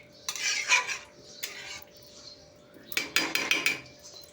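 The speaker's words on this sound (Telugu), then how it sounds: "మూత పెడతాం, చూపిస్తాను." A metal lid set down on a cooking pot of simmering onion curry, heard as a few sharp clanking metallic knocks, with a second cluster of quick clinks a couple of seconds later; close and fairly faint, no talking.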